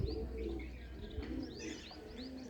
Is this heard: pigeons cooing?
yes